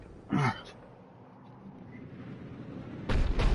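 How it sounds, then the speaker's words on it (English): A heavy cannon in the Mass Effect 3 video game fires twice, a short loud blast early on and another strong, rumbling shot near the end, with quieter ambient game sound between. "Looks like Cerberus got that cannon operational, Commander."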